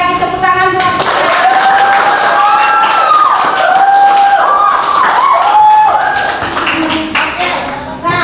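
A classroom group claps hands together under music with rising tones, the claps scattered and moderate in loudness while a voice speaks over them.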